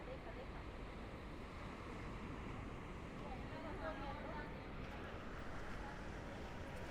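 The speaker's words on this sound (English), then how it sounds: "It's lovely though with the waves crashing" Ocean waves crash on the shore at Las Americas, Tenerife, a constant broad wash of surf with wind noise, steady and fairly faint throughout.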